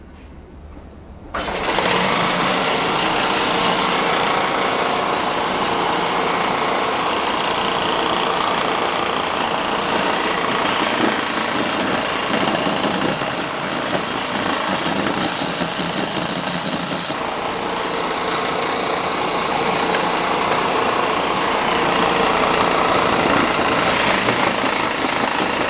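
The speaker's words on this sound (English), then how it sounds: "we'll take it over here to this belt sander" A belt sander starts up abruptly and runs continuously while flattening wooden bar stool slats, a loud steady whirring roar with slight shifts in pitch as the wood is pressed against the belt.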